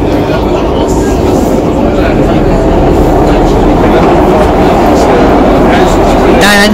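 A free night metro runs between stations near Schiedam Centrum, heard from inside as a loud, continuous rumbling roar of wheels on track, steady throughout with a faint squeal at the end.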